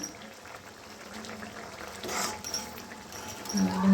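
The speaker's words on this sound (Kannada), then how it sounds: "ನೋಡ್ರಿ ಈಗ ಎಲ್ಲ ಎಷ್ಟು ಚಂದ ಕುದಿಲಾಗತ್ತೆ ನಮ್ದು ಸಬ್ಜಿ" Bitter gourd curry bubbling in a pot on the stove, a soft steady simmer with faint popping that grows a little louder toward the end.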